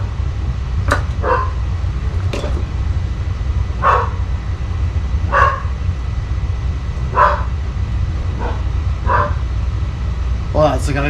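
A dog barks repeatedly at a distance, single yaps spaced about every second or two, over a loud steady rumble while a person talks.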